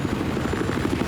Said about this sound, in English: Helicopter being flown there by Infusion Neil.